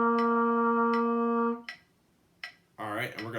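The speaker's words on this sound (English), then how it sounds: "We're just going to play a C whole note" Trumpet holding a steady C whole note, one clear sustained tone for about a second and a half with soft metronome ticks, then a voice begins speaking.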